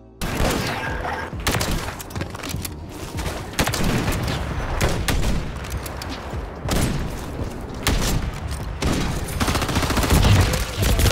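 Blunderbuss blasts in a Search & Destroy shooter match come as heavy, booming shots at irregular intervals, layered over dense, continuous battle noise and clatter.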